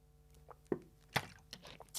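A person sips water and swallows, giving a few quiet slurping, wet mouth sounds close to the microphone with no talk.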